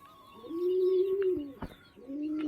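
Pigeons on a rooftop coo in two long, steady calls, close by and clear, with faint background noise in between.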